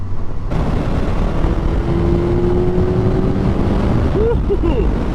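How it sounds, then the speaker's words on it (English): Stock exhaust of a 2026 Suzuki GSX-S1000 motorcycle, a steady engine drone with a rising tone and brief throttle blips near the end, heard close and continuous under light background noise. "once you open it up, you can hear that exhaust valve open too"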